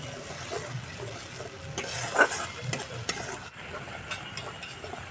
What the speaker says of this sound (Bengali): বেটে রাখা জিরে লঙ্কাটা দিয়ে দিলাম। ভালো করে কষিয়ে নেব।